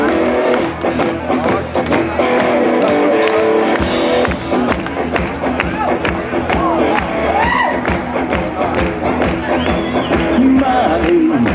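A festival crowd outdoors claps along in a steady rhythm to live music, loud and continuous, with cheering and whoops mixed in.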